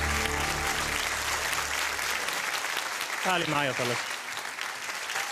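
A studio audience on The Voice Kids (Arabic edition) applauds a young singer with loud, sustained clapping and cheering that fills the whole stretch, and a voice briefly speaks over it near the end.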